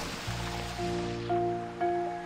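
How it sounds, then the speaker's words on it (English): Waterfall in the video game Slime Rancher 2, a continuous rushing wash of falling water with steady game tones and chimes layered on top, fairly loud and without speech. "I'm gonna climb this waterfall"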